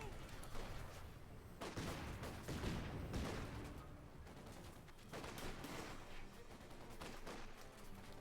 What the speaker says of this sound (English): Stukas is firing again here